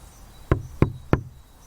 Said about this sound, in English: He walked to the house and knocked